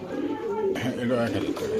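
Racing pigeons coo softly in a loft on a pigeon farm, giving a few low, rolling calls close by under faint background chatter.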